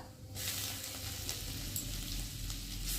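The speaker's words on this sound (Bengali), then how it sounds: "দেখো মশলাটা একটু তেলের মধ্যে ভালো করে ভেজে নিয়েছি" Spices and ginger sizzle in hot oil, a turmeric, salt and ground cumin masala for a taro curry, the frying hiss starting abruptly and then holding steady and close with faint stirring scrapes throughout.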